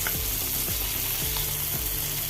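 Mackerel pieces frying in hot oil in a pan and being turned over, a loud close continuous sizzle with a few soft scraping strokes as the fish is flipped.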